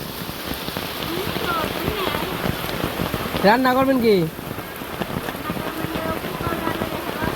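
Rain falls steadily in a Bangladeshi village as a constant close hiss of drops on surfaces, with a person speaking briefly in the middle over the downpour.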